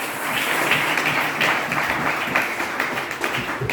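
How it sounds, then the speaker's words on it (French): A church congregation applauding and cheering for the Lord, a steady wash of many hands clapping close and loud throughout, with voices mixed in. "Acclamez pour le Seigneur."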